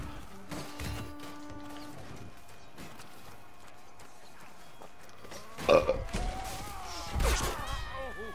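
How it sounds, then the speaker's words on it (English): A burp from the medieval combat video game Chivalry 2, a short guttural belch standing out over quiet game ambience, followed by a second rougher burst near the end. "I did a burp"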